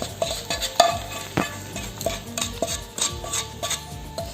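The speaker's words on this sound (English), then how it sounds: "I am adding all the above lightly fried items in the idli batter" Spoon stirring lightly fried items into idli batter, a close run of soft wet scrapes and light metallic clinks against the bowl in an uneven rhythm, no talk.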